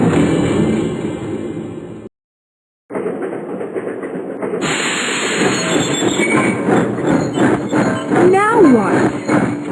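A train rolls along its tracks with loud rumbling and rhythmic clatter, cut by a brief moment of silence. Metallic wheel squeals then rise as it slows toward a stop.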